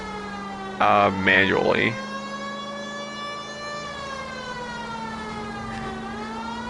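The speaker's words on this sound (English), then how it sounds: "Another thing that's bad is the siren basically stays on the entire time." A video game vehicle siren holds a steady, wailing harmonic tone for the whole stretch, dipping briefly near the end, with a short burst of speech over it early on.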